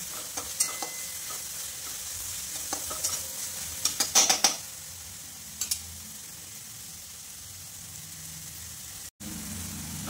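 Moong dal being stir-fried in a pan for a vegetable dish, a continuous soft sizzle with a cluster of sharp spatula scrapes and clicks near the middle, fairly quiet and steady with no voices.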